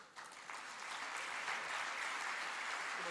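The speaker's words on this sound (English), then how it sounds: "So please be open-hearted while clapping for everybody around and especially for the speakers here on the stage." Steady applause from a seated audience at the closing ceremony of an Ayurveda and yoga expo, a dense wash of many hands clapping that swells slightly and holds, heard at a distance without speech.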